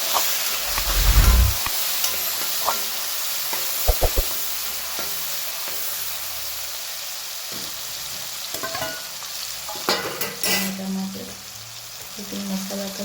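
Cumin, asafoetida, tomatoes and peas frying in a pan, a steady low sizzle broken by a few close stirring clatters and scrapes, with no voices.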